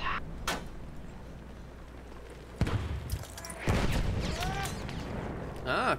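Coastal cannon artillery in the Battlefield 1 video game, a sharp distant boom followed by a heavier blast with a rumbling tail, set among battlefield noise while someone talks.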